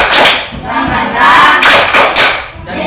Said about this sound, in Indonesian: kita berikan tepuk semangat